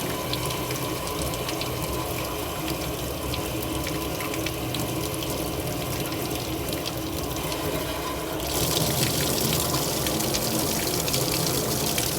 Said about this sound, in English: So this goes on and this gets up pumped overhead and pumped into the main sanitary that goes out the building.